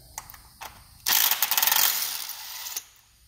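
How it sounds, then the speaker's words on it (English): A 10mm ratchet loosens a valve cover bolt on a V6 Mustang, giving a few sharp metallic clicks followed by a loud, rapid ratcheting burst of about two seconds, then a last click. "we're gonna take a 10mm, and we're gonna remove this valve cover bolt"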